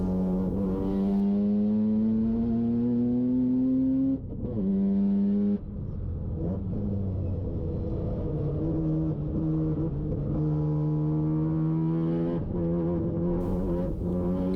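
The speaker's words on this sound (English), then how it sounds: "Now we're on board the FDRX7 with Daryl Curran as he tries to go very fast around the track" A Mazda FD RX-7 rotary engine laps a race track at high revs, its buzzing harmonic note rising through gears with sharp dips at upshifts and downshifts, loud and continuous from on board.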